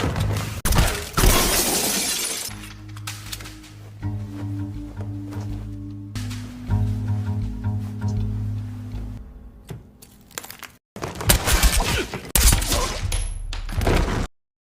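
A film scene of a mafia gang shootout: loud bursts of shattering, breaking glass and heavy thuds come in separate violent bursts, separated by stretches of tense, droning music.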